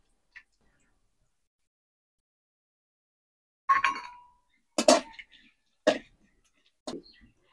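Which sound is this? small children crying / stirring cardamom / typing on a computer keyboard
stirring cardamom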